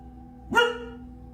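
A single sharp dog bark, fairly close, over a quiet background hum.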